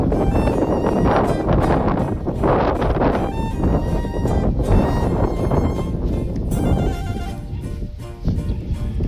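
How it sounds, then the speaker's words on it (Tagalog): Loud, steady wind buffets the microphone throughout, a dense roaring rumble with gusty swells and no voices. "Pumalakasan talagang hangin, bandera kasi."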